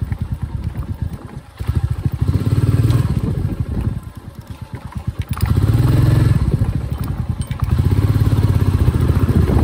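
A Royal Enfield Meteor 350 motorcycle rolls slowly over a rough, potholed road in the evening, its thumping single-cylinder engine steady and close, rising and easing with the throttle, with rattles and clatter over the bumps and no talking.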